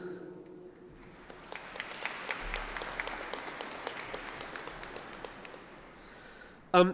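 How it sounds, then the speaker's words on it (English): Graduates clapping at a university graduation ceremony, a broad round of applause that builds from scattered claps into a steady crowded patter and then fades, with a short voice at the very end. "Graduates, give yourselves a round of applause."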